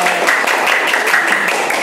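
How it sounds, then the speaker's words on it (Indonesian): Schoolchildren in a fifth-grade classroom clap their hands together, a loud, steady patter of many small claps close by, with a few voices mixed underneath. "Ya, tepuk tangan."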